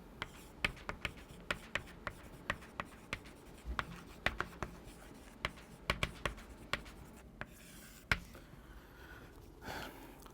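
Marker or chalk writing on a board during a mathematics lecture, a quiet steady series of sharp taps and short scratching strokes in an irregular rhythm, with faint room noise and no talk.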